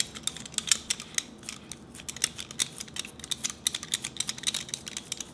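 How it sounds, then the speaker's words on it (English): Taro root being peeled in a kitchen for soup, a rapid run of crisp, close scraping snips and clicks in an uneven rhythm, fairly loud with no talking. "Meanwhile, I'm going to peel the taro."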